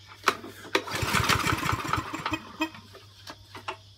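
A lawn mower engine being cranked in a garden: a few sharp pull-start bursts, then a rough sputtering run of about a second that dies out, with more scattered pulls afterwards, fairly close.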